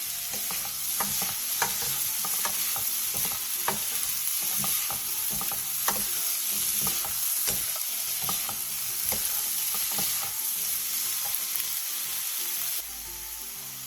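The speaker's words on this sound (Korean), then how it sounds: "대파를 넣고 골고루 어우러질 정도로만 볶아주세요." Green onions stir-fry in a hot pan with a continuous sizzle, broken by frequent scraping and clacking as a utensil tosses them. The sound is steady and close, with no talking.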